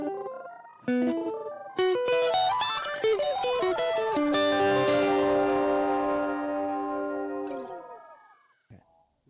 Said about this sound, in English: Here's one of the filter delays.